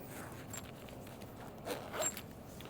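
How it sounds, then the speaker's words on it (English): A zipper on a vest is pulled closed in a couple of quick, close rasps, rising briefly out of soft outdoor background noise. "zip it up"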